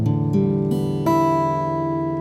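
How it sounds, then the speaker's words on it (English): An acoustic guitar in standard tuning is strummed once and then once more, and the chords ring out clearly and sustain as they fade, with no talking over them. "So this guitar is in standard tuning, sounds like this."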